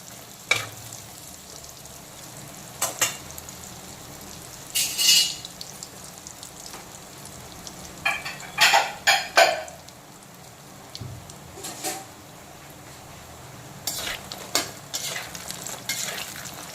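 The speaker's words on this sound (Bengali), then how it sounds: "এখন মাছ ভাজার তেলে প্রথমে দিয়ে দিচ্ছি মশলা বড়ি।" Masala bori, spiced lentil dumplings, fry in oil left from frying fish, giving a steady close sizzle with scattered bursts of crackling and the scrape of stirring, no voices.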